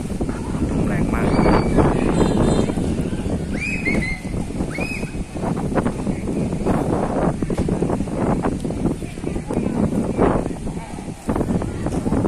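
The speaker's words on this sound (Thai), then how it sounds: "ลมแรงมาก" Strong morning wind gusting across a mountain climb with roughly 790 steps, a loud continuous roar with heavy buffeting against the microphone throughout, plus a few faint high chirps.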